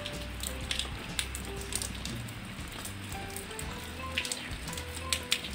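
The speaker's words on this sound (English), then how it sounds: "It's actually raining now." Steady rain patters on a surface, a dense hiss with scattered drips, while low tones hum softly in the background.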